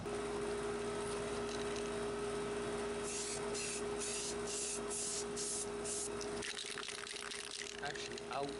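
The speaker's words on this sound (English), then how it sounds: "head over to the gravel and spray some sprues" Several short bursts of primer spray paint hiss in a row from an aerosol can onto plastic sprues outdoors over gravel, over a steady background hum, ending in rougher handling noise.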